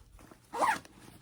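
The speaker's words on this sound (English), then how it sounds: "It does have one zipper pocket right here." One short zipper pull on the pocket of a Nike fur bag, a brief close rasp rising and fading in under half a second against a quiet room.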